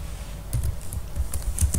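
Computer keyboard typing while entering a filename into Notepad, heard as a close string of light, uneven key clicks with short pauses, no speech over it.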